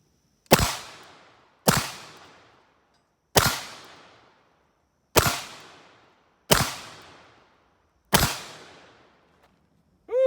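Six sharp revolver shots from a Pietta Starr double-action revolver ring out alone at a steady pace, each loud crack followed by a short decaying echo, with no talking between them.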